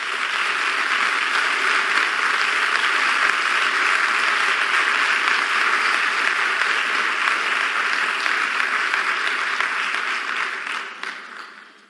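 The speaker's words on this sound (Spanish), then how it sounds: "quiero pedir un fuerte aplauso para todas esas mujeres." A large crowd applauds steadily and loudly for nearly twelve seconds during a speech by Colombia's vice president, the dense clapping holding level before tapering off at the end.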